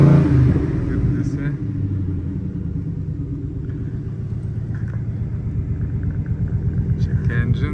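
A Ford Mustang with a 5-litre GT engine idles with a deep, steady rumble close by, its low throb pulsing evenly throughout while someone talks over it.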